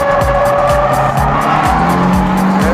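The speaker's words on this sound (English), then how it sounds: "you're kicking the clutch and using the power to get the car to step out" A car drifting after a clutch kick, engine revving hard in rhythmic surges while tires squeal loudly and continuously, close and intense.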